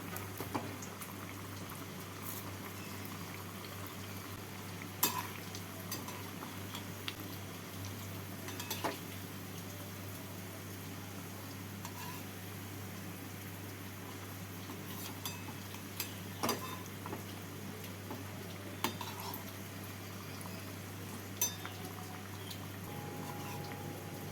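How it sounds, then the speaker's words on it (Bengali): Sweet pithas made from flour and milk powder fry in hot oil and ghee over a medium flame, giving a faint, steady bubbling hiss with occasional soft clinks of a utensil and no talk. "এর মধ্যে পিঠেগুলোকে দিয়ে দিচ্ছি পিঠেগুলোকে দিয়ে এপিটেপুট করে লাল করে ভেজে নেব"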